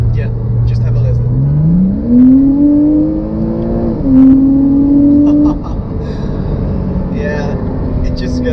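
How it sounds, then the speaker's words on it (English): A Porsche Boxster S with an older 310-horsepower flat-six engine revs up in rising sweeps, drops briefly, climbs again and then settles back. The engine note is close, loud and clear. "the benefit with the older flat six is the sound"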